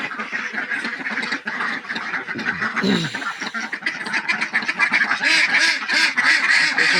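Many ducks and drakes quack continuously and loudly close by, a dense overlapping chorus with no pauses.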